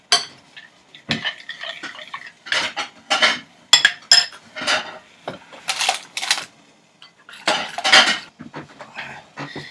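Plating lemon drizzle cake: cutlery and dishes clink and scrape in quick, uneven bursts, close and fairly loud, with no talking.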